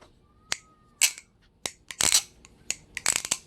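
A balisong butterfly knife with Zen pins being flipped, giving sharp metallic clicks and clacks in irregular bursts, some single and some rapid clusters, close and crisp against a quiet background.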